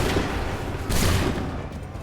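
Musket volley in the battle game Assassin's Creed 3, a dense rumbling crackle of gunfire with a louder burst midway, all at sustained intensity.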